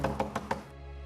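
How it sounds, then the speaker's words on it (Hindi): Four quick, evenly spaced knocks on a door, close and moderately loud, fading into a low hum. "सुनो, दरवाजा खोलो।"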